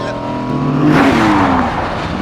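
A 1991 car's engine revs up hard toward 5000 rpm, a loud rising roar with a climbing tone that peaks and then eases back, close by and with no talking over it.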